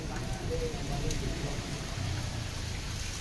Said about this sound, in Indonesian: kalau hujan kayak gini